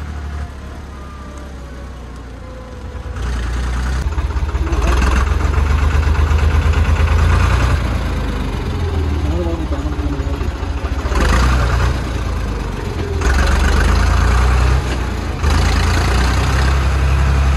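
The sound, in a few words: tractor engine driving slowly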